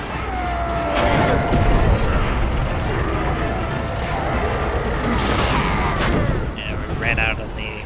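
Explosive shells booming in the video game Kameo: Elements of Power, heavy blasts and crashing impacts over continuous game noise and effects, with a voice talking through much of it.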